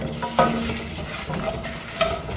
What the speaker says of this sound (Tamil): இது எல்லாத்தையும் நல்லா வறுக்கணுங்க